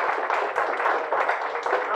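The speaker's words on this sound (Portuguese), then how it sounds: "Ok? Aplausos." An audience at the GambiConf 2023 tech talk on hacking home routers breaks into applause, a brief burst of many hands clapping at a moderate distance with slight surges in intensity.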